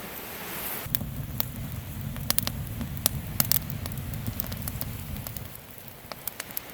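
A campfire crackles with sharp irregular pops and snaps over a soft continuous rumble of surf and burning during a morning stop on a coastal hike, the bed easing slightly near the end.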